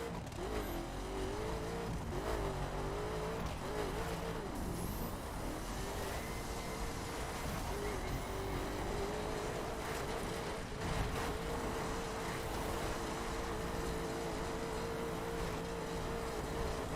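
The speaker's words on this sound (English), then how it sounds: "Listen to the engine screaming." A Koenigsegg Agera R's engine roars in the video game The Crew on a Route 66 road, a continuous loud drone whose pitch swoops up and down with gear changes, rising and settling again across the run.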